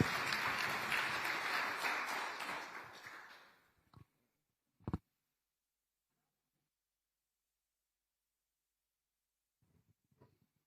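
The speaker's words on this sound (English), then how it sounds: "please, let's give our panelists another huge round of applause as we begin our discussion" Audience applause for panelists at a gender-equality leadership forum: a full, steady round of clapping that fades out after a few seconds, followed by near silence with a couple of faint knocks.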